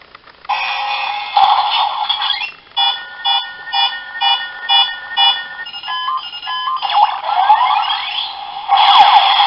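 A DX Gashacon Magnum toy gun's all-clear alert plays alone, a shrill rapid series of pulsing electronic beeps and warbling tones, then a steady buzzing charge-up tone near the end.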